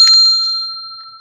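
A small bell strikes once with a bright ding, then its clear ring hangs and slowly fades out alone.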